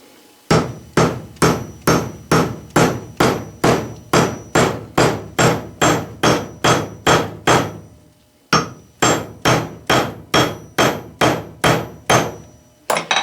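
A wooden handle is driven into a brass hammer head with steady, evenly spaced blows, about two per second, each a loud, close, sharp knock, with one brief pause midway before the strikes continue.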